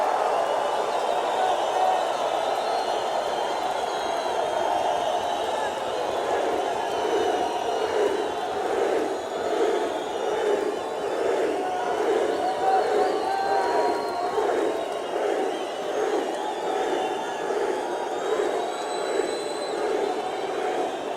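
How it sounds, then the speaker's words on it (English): A large concert crowd at a show roars and cheers continuously, a dense sustained wash of voices that swells slightly and holds without a break. "then they all leave, and then the crowd makes a bunch of noise"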